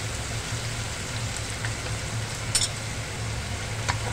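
Bacha fish curry with salt and turmeric paste stirred in a pan, a soft continuous sizzle with faint occasional scrapes under a low steady hum, fairly quiet throughout.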